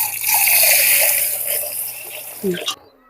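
Water runs from a tap into a vessel of urad dal and rice set to soak, a close, steady gushing stream that eases off and stops near the end with a brief splash.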